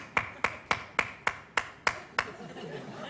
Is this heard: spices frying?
no